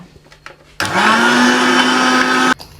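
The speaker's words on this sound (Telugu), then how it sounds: "and mixie పట్టేసుకుందాం" A kitchen mixer grinder grinds jaggery and urad dal into powder for sunnundalu, an Andhra sweet. It whirs loud and steady for under two seconds, then cuts off abruptly, with quiet room sound before and after.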